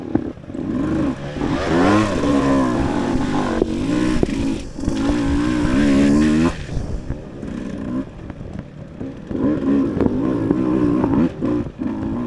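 Dirt bike engine lugging and revving in a higher gear during an off-road race at Strange's Ranch, a loud, continuous rough drone that rises and falls with throttle, with clattering from the bike over the terrain.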